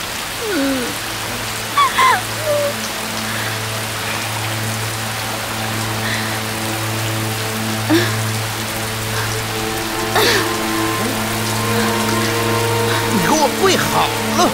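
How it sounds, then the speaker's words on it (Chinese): Heavy rain pours down steadily in an imperial palace courtyard, a dense, continuous hiss throughout, overlaid by occasional voices and tonal sounds. "这雨可是越下越大了"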